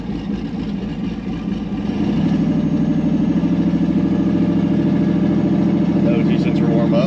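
A parked Chevrolet Camaro's engine runs steadily at a loud, close idle, its low harmonic drone firming up after a couple of seconds and holding on.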